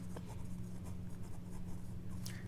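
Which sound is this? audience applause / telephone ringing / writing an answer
writing an answer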